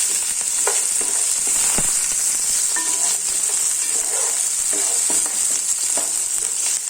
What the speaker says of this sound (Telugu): కొంచెం కలర్ మారేదాకా ఫ్రై చేసుకున్నాం ఆనియన్ని